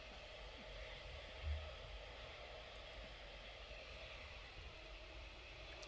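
Jet aircraft departing East Midlands Airport at night, a steady distant low roar of engines spread across the air, faint and continuous with no voices.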